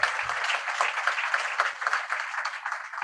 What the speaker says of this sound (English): a thunderous round of applause as we welcome our Minister for ICT and National